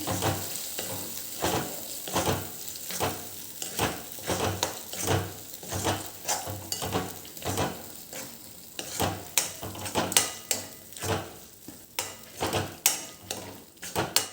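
A spoon stirs a Punjabi-style dam makai mixture with cream in a pan, with repeated scraping strokes and steady soft sizzling, close and continuous with no talking.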